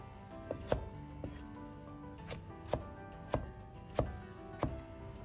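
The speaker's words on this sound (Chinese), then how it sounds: "然后从中间切开，再切成粗细均匀的条" Eggplant cut into even strips with a kitchen knife on a cutting board, about eight crisp chops at a slow, steady rhythm, each a short tap, quiet and close with no talk.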